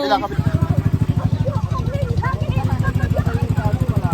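A small bangka boat motor in Batangas, Philippines chugs steadily with a fast, even pulse, close and loud, while voices chatter over it.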